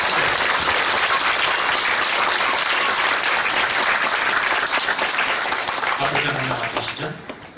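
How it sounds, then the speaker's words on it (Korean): Loud, dense applause fills a church hall after two elders are proclaimed emeritus at a Korean Presbyterian ordination and installation service, steady for about six seconds before thinning and fading as voices begin to come through. "이 박수로."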